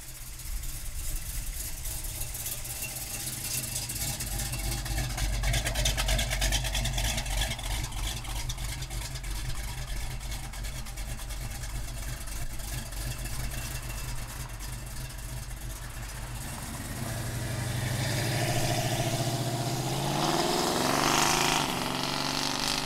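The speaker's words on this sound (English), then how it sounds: "Big block under the hood, awesome exhaust system on this car." A big block V8 in a 1971 Plymouth Road Runner with a performance exhaust idles with a deep, steady rumble, swelling louder and rougher toward the end as it is revved.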